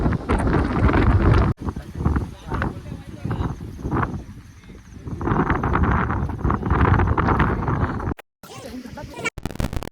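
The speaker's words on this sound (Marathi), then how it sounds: "वारं बघा किती जोरात सुटलाय" Strong wind at Tikona Fort near Lonavala roars and buffets the microphone almost continuously, a loud rumbling gust with muffled voices faintly underneath.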